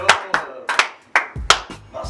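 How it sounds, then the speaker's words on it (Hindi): A handful of loud, close claps ring out one after another in an uneven rhythm on a live talk show set, sounding more like a few people than a full crowd. "तालियां।"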